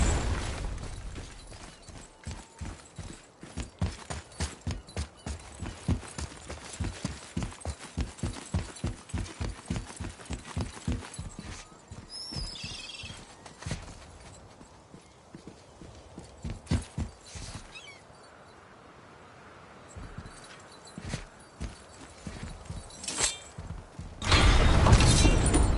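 Horse hooves clip-clop in a brisk, even rhythm across the ground in God of War, close and clear, thinning out midway before a faint snort and a sudden loud burst at the end.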